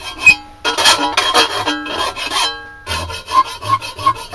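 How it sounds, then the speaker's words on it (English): A hand file rasps along the edge of a homemade pulley guard for a Harbor Freight knife grinder, in repeated close, loud back-and-forth strokes with brief pauses between bursts. "I'm just going to dress it off with a file"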